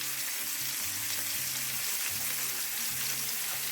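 Steady, close sizzling of tench, a river fish, frying in hot oil in a pan, a continuous crackle with no voices.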